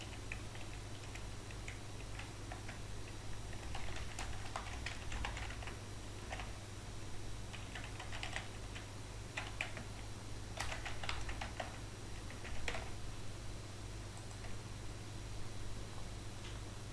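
Bursts of computer keyboard typing while registering a user, clusters of crisp clicks separated by short pauses over a steady low hum, close up and without speech.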